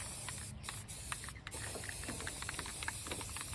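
Spray paint in Regal Red hisses from an aerosol can onto a ladybug, a steady, close, fairly faint spray with small clicking bursts throughout.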